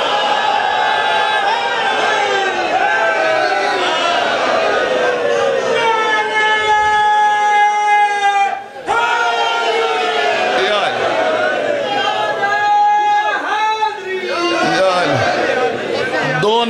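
Majlis audience at a Shia religious gathering in Karor chanting slogans together, a dense crowd of voices rising in loud, sustained waves with harmonic swells, a brief dip midway, then surging again.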